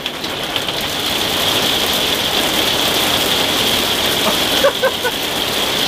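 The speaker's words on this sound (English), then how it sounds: "That's hail! That is really loud!" Hail drums steadily on a motorhome roof and awning at a festival for Hymer motorhomes, a dense, loud, continuous patter with a few sharper impacts near the end.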